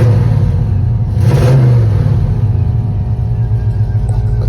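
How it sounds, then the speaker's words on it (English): A Chevrolet Caprice engine idles with a fitted high output alternator, a steady low rumble with one short rev swelling briefly near the start, close and alone without speech. "I got a high output alternator on here. Kind of sound like I got a little miniature turbo."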